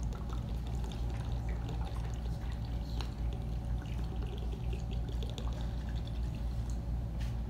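A whole carton of liquid pours into a smoothie blender, a steady continuous gush of liquid running unbroken and fairly close throughout with no talking.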